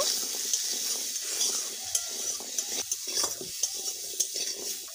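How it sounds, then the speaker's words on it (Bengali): A spoon stirs potato mixture with chili flakes and turmeric in a pot, giving soft scraping and light clinks with a faint sizzle underneath, close and steady. "সব কিছু ভালোভাবে মিশিয়ে নেব।"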